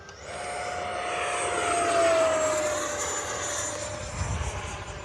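An FMS Rafale 80mm electric ducted-fan RC jet flies past with a loud, steady whine that rises and slowly falls in pitch, swelling toward the middle and fading slightly at the end.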